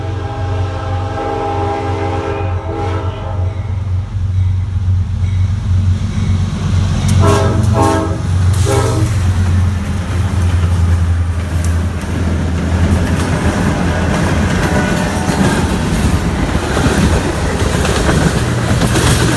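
A CSX freight train led by GE locomotives rumbles loudly close by in Selma, its horn sounding with sustained tones early on, then a steady heavy roar of cars rolling past.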